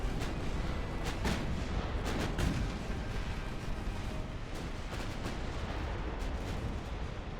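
Ship guns fire repeatedly in a naval battle in Ultimate Admiral: Dreadnoughts, with sharp cracks and low booms over a steady roar, loud and close throughout.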